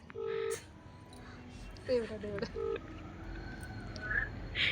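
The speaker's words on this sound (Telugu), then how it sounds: "రింగ్ అవుతుంది." A phone line rings out in short, repeated tone bursts, with faint background noise and a few fainter tonal blips between the rings.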